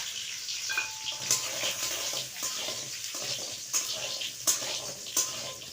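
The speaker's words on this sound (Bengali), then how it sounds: "এবার বড়িগুলো ভেজে নেব।" Bori lentil dumplings fry in hot mustard oil in a wok, giving a steady close sizzle broken by occasional scrapes and stirring clatters.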